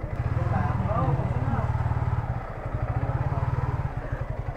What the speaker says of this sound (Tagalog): Ayun o, ito yung motor ni Boss Joe